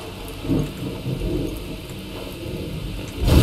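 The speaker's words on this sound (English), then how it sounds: "Yeah, it's raining." Video game rain pours steadily while low thunder rumbles roll through, swelling louder near the end.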